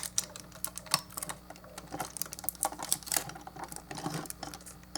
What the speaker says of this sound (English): first I gotta get this tape off of it